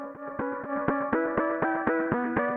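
Electronic dance music drop built on a bright synth arpeggio preset, steady rapid plucked notes in a repeating pattern with rhythmic swells, the kick drum left out, no talk.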